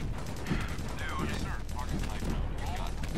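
Gunfire in the video game Sun Age, a dense rumbling clatter of shots and mechanical noise layered under someone talking throughout.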